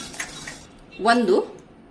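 Whole cardamom pods dropped into a pan for dry roasting alongside cloves on a low flame while making homemade garam masala, a short clatter of pods and a metal utensil against the pan, brief and close.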